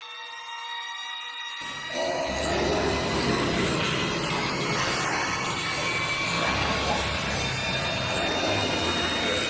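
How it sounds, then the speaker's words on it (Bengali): Police train in the mobile game Indian Bike Driving 3D, a steady loud rumble of rolling train noise that starts abruptly after a brief near-silent opening and continues without pause. "ইন্ডিয়ান বাইক থ্রিতে সমস্ত মনস্টারকে চেঞ্জ করে দিয়েছি একটি পুলিশ ট্রেনে, যেমন কি ট্রেন ইটার, থমাস ট্রেন, চুচু চার্ল"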